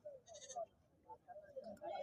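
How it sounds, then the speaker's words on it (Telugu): A two-and-a-half-year-old ram at a weekly Thursday livestock market in Kamareddy gives a few close, wavering bleats, with the murmur of market voices around it. "ఈ రకం అంటే పొట్టేలు మిత్రం పొట్టేలు"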